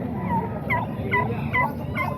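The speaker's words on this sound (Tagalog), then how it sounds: "Dalawang manok dito mga boss." Fowl call out repeatedly at a cheap open-air chicken market, a few short, loud squawking calls in a row over a busy background.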